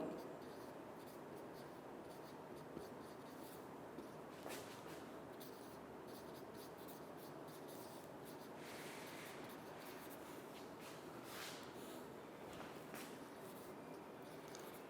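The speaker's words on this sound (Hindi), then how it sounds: "तो मैं यहाँ पे लिख देता हूँ" Chalk or marker scratching across a board during a chemistry lecture, short strokes and squeaks coming in bursts, up close and fairly quiet with room noise behind.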